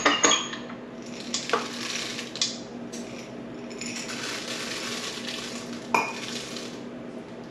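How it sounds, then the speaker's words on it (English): Cake or muffin batter churned in a metal mixing bowl before chocolate chips go in, a steady whirring stir with scraping clinks and a few sharp knocks against the bowl, close and fairly loud with no talk. "I'm just gonna let this mix"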